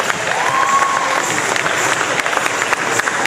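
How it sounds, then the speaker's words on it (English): A large arena crowd at a Diwali festival applauds after a classical dance performance, loud and sustained dense clapping with a few sharp claps standing out, some cheering and a faint whistle-like tone early on. "Another big round of applause for Shivant Dance Academy."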